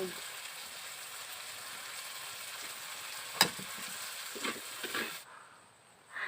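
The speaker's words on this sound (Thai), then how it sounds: "อันนี้คือรถด่วนร้อนๆ ที่เราไปหามาแล้วก็เราก็เอามาทอด" Bamboo worms, rot duan, deep-frying in hot oil, a soft continuous sizzle close by with a sharp clink partway through and a few stirring scrapes near the end.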